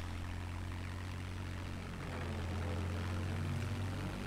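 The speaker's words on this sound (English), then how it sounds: "I think their planes are back online." Propeller warplanes in a war video game drone overhead in one continuous, steady engine roar with a low hum, no voices over it.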